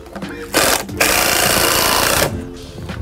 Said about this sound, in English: Put my first screw in.